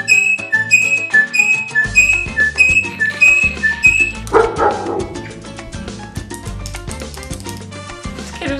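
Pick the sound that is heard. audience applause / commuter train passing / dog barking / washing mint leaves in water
dog barking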